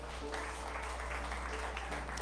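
Congregation clapping hands during a church service, steady dense applause held at an even level throughout over a low background hum.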